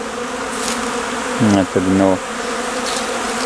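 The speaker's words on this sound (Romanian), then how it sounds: "Lăsăm albina să circule." Honeybees at a hive entrance in February give a brief, close buzzing drone in two short bursts over a steady hum, with a voice speaking briefly.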